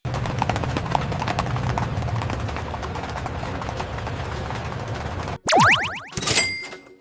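Hooves clip-clop in a steady rhythm for several seconds, close and clear, followed by a bright springy boing and chime.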